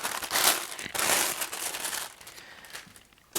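Protective paper wrapping from a Nike sneaker box crinkles and rustles close by in a few bursts, loudest at the start, then fading into softer handling with a last crisp crackle.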